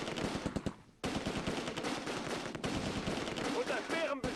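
Sustained machine gun fire in the Close Combat II war video game, with rapid continuous bursts layered with other gunfire and explosions, loud and dense throughout with a brief lull near the start.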